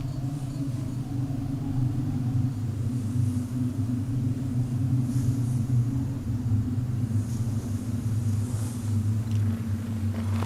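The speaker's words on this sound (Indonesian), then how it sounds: "Ada badai datang." A low, steady rumble rolls on without a break as a storm approaches in a historical drama about the prophet Joseph. The deep drone stays loud and even, with faint higher gusts on top and no speech.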